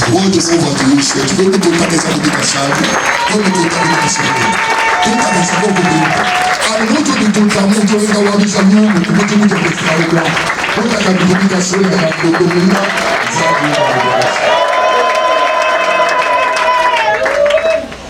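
A crowd applauds at a funeral service for an apostle in Mwene Ditu, with sustained clapping and cheering throughout and singing voices rising over the applause.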